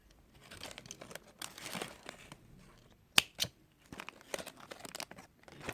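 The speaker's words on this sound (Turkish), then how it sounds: "ben bu paketi kenarda açıp size göstereceğim" A toy surprise package being torn open by hand, close crinkling and rustling of plastic wrapping in bursts with a couple of sharp tearing snaps, fairly quiet with gaps between.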